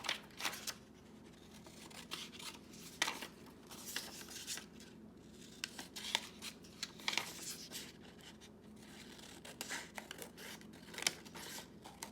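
Scissors cutting off the bottom of a paper packet, a series of crisp snips and paper rustles spaced irregularly, close and clear, with quiet pauses between cuts.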